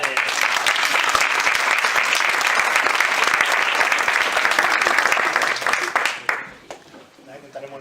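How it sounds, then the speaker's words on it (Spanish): A room of attendees at a gathering breaks into sustained, dense applause for several seconds, then the clapping thins out and fades near the end. "Un aplauso para Miguel."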